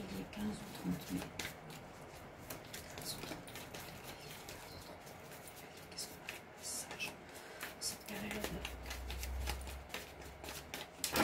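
Tarot cards being shuffled by hand, a soft, quiet run of riffling and flicking card noises with light slaps, close but faint throughout.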